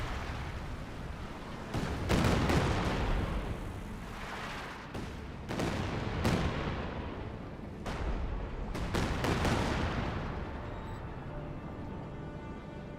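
Katyusha rocket artillery barrage in Company of Heroes 2, a series of heavy booming impacts arriving in loud bursts with short gaps, layered over a constant wash of battlefield gunfire.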